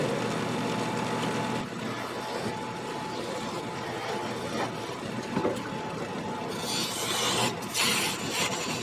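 A wood lathe cutting down the holding end of a turned Christmas ornament, a constant spinning whir with a tool scraping against the wood and a brighter hiss toward the end, no voices.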